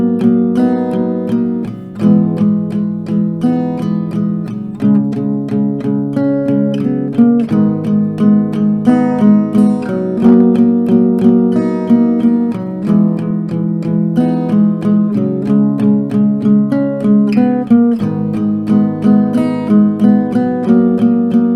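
A guitar plays a song's melody using short, clipped downstroke chords in a steady repeating rhythm, clear and alone for about twenty seconds.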